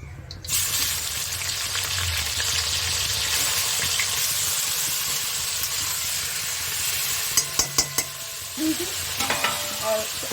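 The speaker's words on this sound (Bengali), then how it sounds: "চিকেনটা চাপা দিয়ে ভাজছিলাম" Chicken frying in hot oil left over from frying potatoes for a chicken curry, with the pan's lid just taken off: a steady, close sizzle and crackle throughout, with a few sharp clinks from a utensil near the end.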